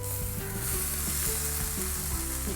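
A constant hiss of pressure-cooked banana flower and beans stir-frying in hot oil for thoran, with soft scrapes of a spatula stirring the pan now and then.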